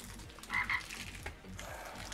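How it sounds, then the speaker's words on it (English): A frog croaks faintly in a video game, a short quiet call over a steady background hum with no one speaking. "Man, that frog is annoying."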